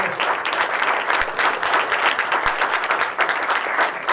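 Sustained applause from a live audience at a corporate talk on change management and digital transformation, dense and steady clapping filling the whole stretch with a few low thumps.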